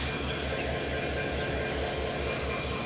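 Locomotive 66-35 of the Banglabandha Express stands idling at Parbatipur Junction, giving off a steady, close, low rhythmic throb that continues evenly throughout.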